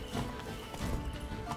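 Horse hooves clop steadily in The Witcher 3, a muffled rhythmic gait under a dense wash of game ambience and noise, with no talk.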